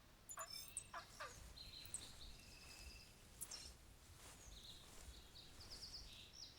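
A wild turkey hen in the theHunter Classic hunting game gives a series of short, clucking calls at moderate distance over quiet outdoor ambience, with no talking.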